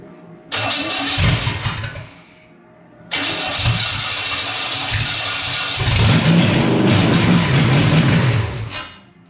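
A mystery race car engine on a run stand cranks, catches and runs loud and rough, cutting out briefly around two seconds before restarting and revving unevenly until it shuts off near the end.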